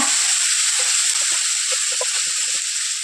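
Tomatoes with ginger garlic paste sautéing in a pan for a crab fry, a loud, constant hiss of sizzling with a few soft stirring clicks underneath.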